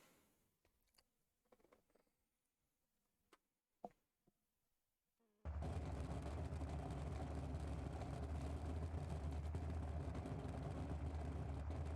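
Near silence with a few soft clicks and taps gives way to the Merlin engine in BeamNG.drive, which starts abruptly into a loud, steady, deep drone that holds unbroken to the end.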